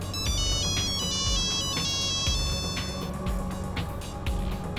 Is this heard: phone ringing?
yes